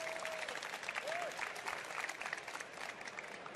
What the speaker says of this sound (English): huge shout out and a round of applause for them.